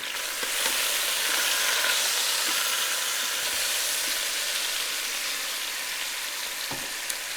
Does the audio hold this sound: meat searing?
yes